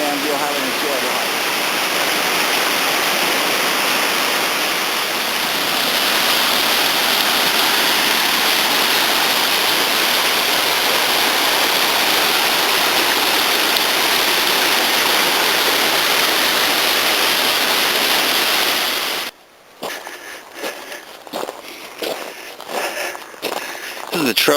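A mountain creek in Ferguson Canyon rushes with a loud, steady broadband wash for about twenty seconds. It then cuts to quieter, irregular rustling and scuffing close by.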